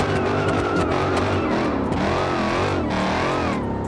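A Hellcat car losing grip and spinning out in a driving game, its tires squealing continuously over a loud engine drone, close and unbroken, no talk.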